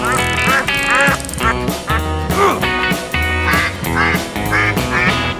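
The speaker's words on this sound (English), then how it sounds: "The duckling gets angry and hits Kiki in a fight" Angry cartoon duckling quacking in a rapid series of loud, squawky quacks over busy music, one after another without pause.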